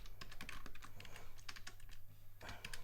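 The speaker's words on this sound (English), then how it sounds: "you pick a password, and then you type in your name" Steady typing on a computer keyboard while filling in a name on a website signup form, with rapid, close clicking keystrokes and a faint low hum underneath.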